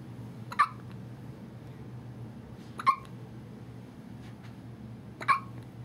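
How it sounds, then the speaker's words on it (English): A 2½-week-old baby hiccuping, three sharp little hiccups spaced a few seconds apart, close by over a low steady room hum. "you have the hiccups."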